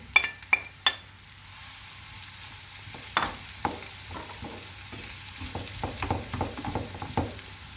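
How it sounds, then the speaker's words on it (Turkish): Finely chopped onions sizzle in a pan while a utensil stirs and scrapes, producing irregular clicks and taps over a soft, steady frying hiss. "Şimdi ince ince doğranmış soğanlarımı ekliyorum ve pembeleşinceye kadar kavuracağım."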